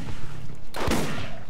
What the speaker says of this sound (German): hör du mal auf drauf zu schießen